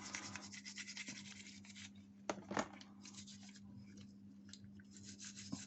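A Peugeot 103 moped carburettor being scrubbed clean: faint, continuous brushing and rubbing with a few sharper scrapes and clicks, quiet and close over a low steady hum.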